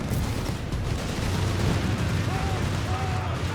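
Heavy gunfire and explosions rumble in a Company of Heroes 3 battle, a dense continuous barrage of booms and bursts with battle noise throughout.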